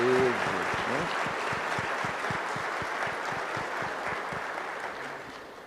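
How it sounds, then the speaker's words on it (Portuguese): Congregation clapping during a Confirmation Mass in church, a soft, diffuse wash of applause under steady rhythmic tones, slowly fading over several seconds. "uma salva de palmas, para elas, para todos"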